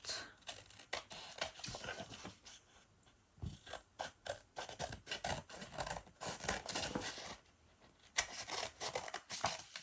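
Paper journal card trimmed with scissors: a run of crisp, uneven snips and rustling paper handling, close and fairly quiet, with short pauses between cuts and no talking.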